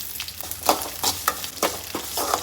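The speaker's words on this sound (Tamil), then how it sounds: "நல்லெண்ணெயிலே வெங்காயம் பூண்டு எல்லாம் வதங்கிட்டோம்" Shallots and garlic sautéing in sesame oil for pepper curry, with a close, crackling sizzle and quick repeated spatula scrapes in an uneven rhythm, heard alone.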